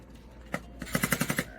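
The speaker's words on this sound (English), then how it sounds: "So I'm going to go ahead and drill a tiny little hole first." A power drill in hammer mode bores a tiny pilot hole during a Suzuki Samurai restoration, giving a quick run of rapid, evenly spaced percussive knocks up close after a couple of faint taps.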